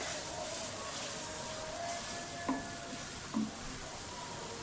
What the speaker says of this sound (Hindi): प्याज और हरी मिर्चें हमारा फ्राई हो गई हैं। टमाटर डाल दें।